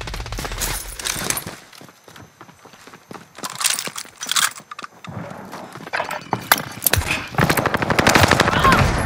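Machine gun fire in the video game Call of Duty: Modern Warfare, with loud bursts of rapid automatic shots broken by short gaps and building into dense continuous fire toward the end.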